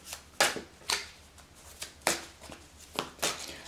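Tarot cards are shuffled and drawn, giving a series of crisp riffling bursts at roughly half-second intervals with soft papery handling sounds between, close and fairly quiet.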